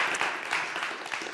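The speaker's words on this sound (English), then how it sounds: "a round of applause." Lecture contest audience breaks into a steady round of applause, dense even clapping filling the room for a moment, no voices over it.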